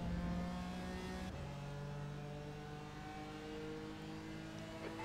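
A BMW GT4 race car's engine in iRacing at the Red Bull Ring drones steadily with a sustained mid-pitched tone that drops and settles after a gear change, holding loud and continuous with no talk.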